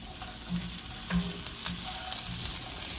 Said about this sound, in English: So now that the onions have gotten some color, we're gonna add in our carrots and our asparagus